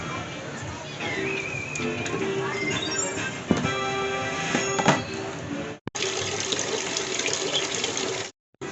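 Tap water runs steadily into a sink while plates are washed, with clinks and knocks of dishes rising above the flow. A short break cuts in near the end, and voices talk faintly over the water.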